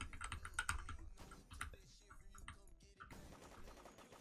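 Rapid clicky bursts of gunfire from a Roblox game, firing in quick repeated volleys under excited talk and game noise.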